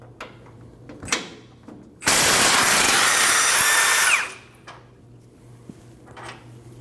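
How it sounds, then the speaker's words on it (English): An impact wrench or power tool spins off a 24mm steering box frame bolt on a Nissan NV2500 van, one loud sustained burst of about two seconds amid lighter clinks and tool handling. "your steering box is mounted to your frame with 3 24mm bolts. You need to remove all 3 of those"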